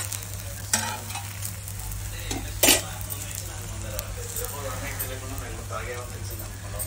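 Oil sizzling steadily in a pan as an egg dosa fries, a constant close hiss with a couple of utensil clinks against the pan and someone talking over it.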